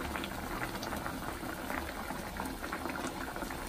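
Meat simmers in a pot of water on a steady rolling boil, bubbles popping and gurgling continuously at close range with no voices.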